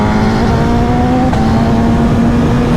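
A BMW S1000RR Gen 2 sport bike accelerates hard with a loud, close engine note climbing in pitch, briefly dipping at a gear change, then rising again, with no voices.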